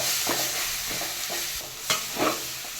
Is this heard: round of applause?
no